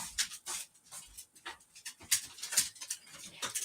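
A dog pants rapidly and rhythmically close by, with occasional faint whimpers mixed into the quick breaths, and no talking.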